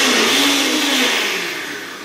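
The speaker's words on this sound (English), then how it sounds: "so we just put some washed kale in the top of the blender, add the lid, and again, blend it all up." A blender whirs loudly, churning washed kale into a green shake, one continuous high motor roar that slowly drops in pitch and level over two seconds.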